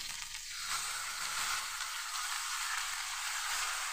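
Ground tomato-ginger paste hits hot fried vegetables with a sudden bright sizzle that holds steady and loud, a dense hiss of frying with faint stirring underneath.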